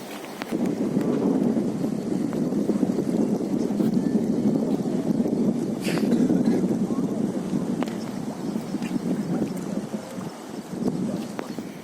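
The flooded, fast-flowing Swarnarekha river after heavy rain makes a steady, dense rush of water with wind buffeting the microphone, continuous and fairly loud, with no clear speech over it.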